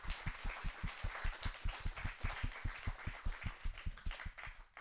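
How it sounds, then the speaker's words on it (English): A small audience at a blockchain food meetup claps for the panelists, a steady run of close, evenly paced handclaps lasting several seconds with no talk. "So let's give all our panelists a big applause."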